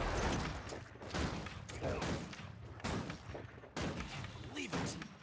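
Gunfire erupting during a bar fight in a video game, loud repeated shots and thuds in dense clusters with short gaps, voices mixed into the chaotic action.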